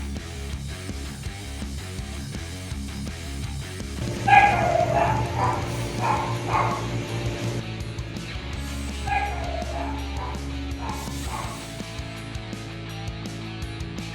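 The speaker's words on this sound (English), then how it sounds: "it's just barking" A guard dog barks and yips in a yard, several sharp barks and whimpers over a steady low background hum, fairly near and moderately loud.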